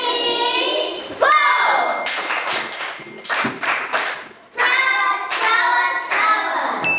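Children clap their hands in a classroom during a multiplication lesson, a series of sharp claps in short bursts, some counted in rhythm, mixed with children's voices and an adult speaking.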